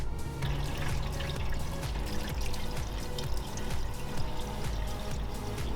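Cooling system cleaner poured into the cooling system of a classic Dodge being prepped for racing, a steady close glugging and splashing pour that runs continuously and alone.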